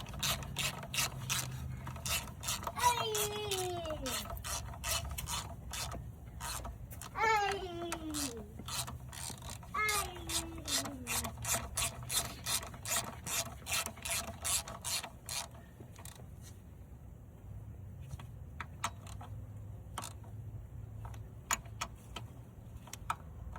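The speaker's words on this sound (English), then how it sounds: "Two 10mm bolts. Alright, let's tighten these." Ratchet clicking in repeated bursts while tightening two 10mm bolts on a 1999-2004 Honda Odyssey during a power steering pump job, close and crisp, with pauses between strokes and no talk.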